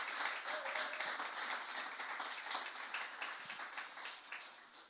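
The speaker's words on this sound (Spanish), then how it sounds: "¿Por qué no le damos un fuerte aplauso de bienvenida" A congregation at a Friday family church service gives a soft, sustained round of applause. The clapping is faint and distant and stays even for the whole stretch.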